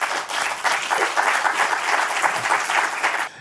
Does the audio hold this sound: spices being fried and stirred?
no